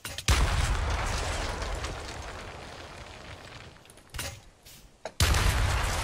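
Rapid Desert Eagle pistol gunfire in a Minecraft H1Z1 shooter game comes in dense, loud bursts, a sustained volley that breaks off briefly before a final sharp shot and another burst.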